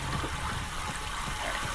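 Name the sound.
water flowing through pipe in video game Myst Remake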